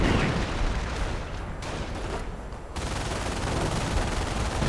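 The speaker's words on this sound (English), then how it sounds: "And artillery fire moving in." Artillery and gunfire rumble through a strategy video game battle as a dense, continuous, loud wash of booms and crackling shots with no clear gaps.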